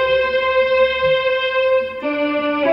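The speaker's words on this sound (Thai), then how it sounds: "นะครับนี่คือเสียง string นะครับ" Sustained string-ensemble patch from a guitar synthesizer, held chord tones ringing smoothly and steadily, shifting to a new chord near the end, played alone with no talking.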